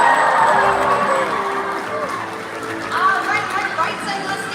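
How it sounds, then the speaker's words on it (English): Stadium crowd at a SeaWorld orca show cheering and chattering for a killer whale's leap, a sustained loud roar of many voices. "let's give him a cheer when he does"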